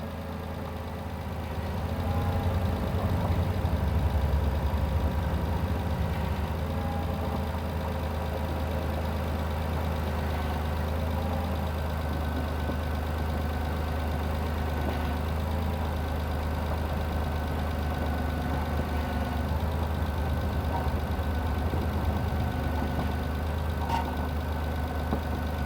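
A Mitsubishi Endeavor engine idles steadily at close range while the steering wheel is turned back and forth, a constant low hum with a faint whine from the power steering pump and no talk.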